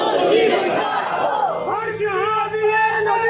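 A crowd of voices shouts a religious slogan in unison at a gathering, a loud massed cry that carries through the whole short burst.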